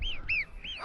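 Crows circling above the Val Ferret mountain valley give three short, rising-and-falling calls in quick succession, fairly faint and distant in the open air.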